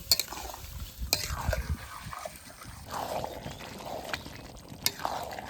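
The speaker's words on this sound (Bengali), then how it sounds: "এইবার মাংস দিয়ে দেবো এবার ভালো করে কষিয়ে নেব" Goat meat stir-fried in a pan with onions and cumin, soft sizzling under intermittent scrapes and stirring strokes of a spatula, fairly quiet and close.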